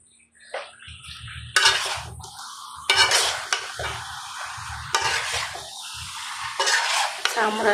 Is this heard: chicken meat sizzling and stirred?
yes